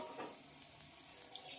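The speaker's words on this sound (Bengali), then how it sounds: "তো দেখো বেগুনগুলো একটু ভালোভাবে ভেজে নেব।" Eggplant slices fry in a pan with very little oil, making a faint, even sizzle with a few soft turning noises and nobody speaking.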